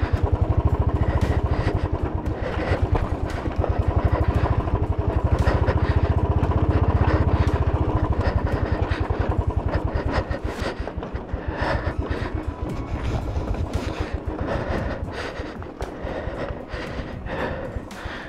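A motorcycle engine runs with a loud, close, throbbing rumble while riding in the Zanskar region, its pulsing beat steady at first and then growing choppier and slightly quieter.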